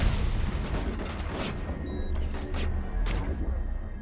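Grenade explosions in Mass Effect on Noveria, a run of heavy booms and blasts rumbling close and loud over continuous low game noise.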